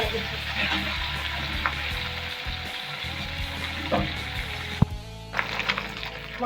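Steady oil sizzle of a whole fresh fish frying in a pan, close and continuous, with a few light clicks and stirring sounds.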